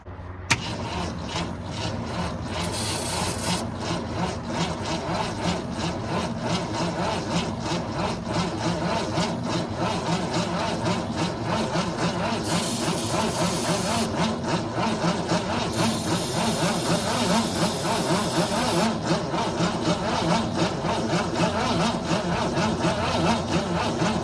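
An old Ford Falcon engine that has sat for 46 years cranks slowly without starting, a steady, labored rhythmic whirring and grinding from the starter that runs continuously and fairly loud, with no firing.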